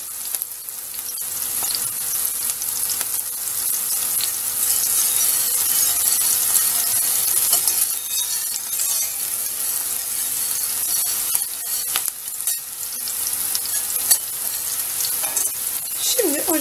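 Green beans sautéing in a hot pan hiss in a steady, bright sizzle, with scraping and clacking from stirring now and then, close and fairly loud throughout.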